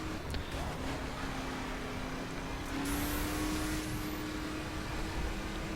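A Hup One hot rod in The Crew drifts with wheel spin, its engine a steady, droning hum with faint, high tire squeals rising above it midway.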